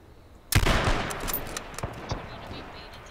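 A sudden volley of overlapping gunshots from an H1Z1 survival game firing squad, a loud burst followed by several scattered single shots and a fading tail.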